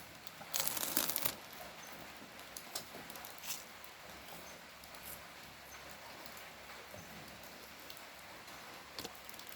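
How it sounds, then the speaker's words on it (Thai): Steady light rain patters in the background, with a brief louder burst of crinkling noise near the start and occasional faint clicks. "บรรยากาศฝนตกนะครับผม"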